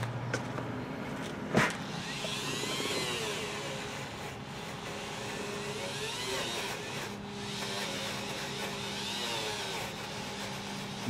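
Wire wheel brush on a power tool scrubbing the spokes of a Suzuki GS550 motorcycle wheel, a steady whirring drone with rising and falling scraping sweeps, close, after one sharp knock near the start.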